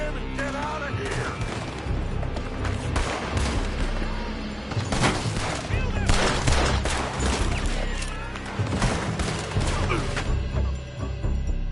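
Repeated gunfire in a Wild West shootout video game, with shots fired from a building. Dense volleys of loud bangs and crackling fire keep going throughout, alongside shouted voices.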